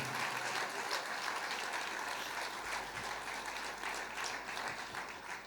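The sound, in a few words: congregation applause of praise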